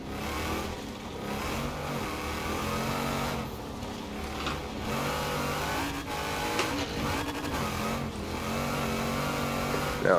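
A DeBerti Design Jeep Wrangler launches off the line in Forza Horizon 4, its engine revving hard and climbing through several gear changes in a loud, continuous roar with no talking.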